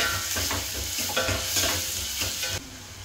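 Food frying in a pan as a little salt is added, a close sizzle broken by several quick stirring scrapes, ending in a quieter steady hiss.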